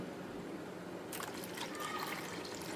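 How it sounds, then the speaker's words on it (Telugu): A faint trickle of water being poured into a gram flour mixture, starting suddenly and continuing briefly over a low background hiss. "సో ఇందులో అయితే మనం వాటర్ పోసుకోవాలి"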